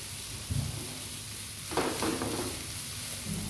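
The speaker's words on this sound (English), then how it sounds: "just mix it up so that you get the taste of it, of the onions, the garlic" Sweet onions and garlic sautéing in a pan, a soft steady sizzle broken by a couple of brief scraping stirs, fairly quiet and close, with no talking.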